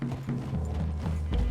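Horse hooves clip-clop in the Red Dead Redemption 2 video game, steady and fairly close, blended with low ambient rumble and no talk.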